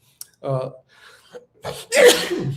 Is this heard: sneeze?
yes